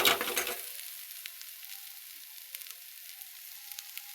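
Spices with turmeric roast in a hot pan, a loud burst of sizzling at the start quickly settling into a faint, steady crackle with occasional small pops.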